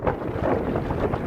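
Strong wind buffets the microphone on a high Rocky Mountain summit near Hallett Peak in Colorado, a loud, continuous low roar with gusty swells and no voices.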